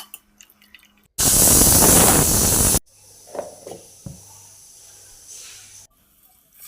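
A kitchen mixer grinder roars in one loud burst of under two seconds, blending cooked spinach, green chilli and garlic into paste in its jar, framed by quiet clinks and handling noises.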